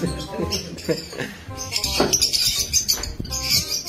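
Small birds chirp and tweet in quick, high bursts nearby, mixed with rustling and shuffling movement and people talking in the background.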